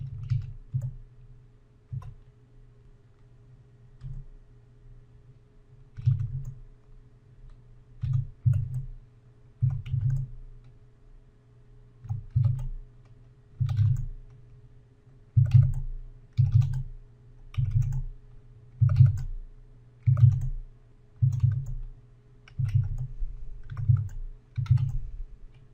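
Values are typed on a computer keyboard with Tab presses in between, giving irregular bursts of clattering keystrokes separated by short pauses, close and clear, over a faint steady hum.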